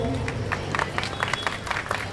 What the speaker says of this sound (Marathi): या वहिनीसाठी जोरदार टाळ्या वाजवा सर्वांनी.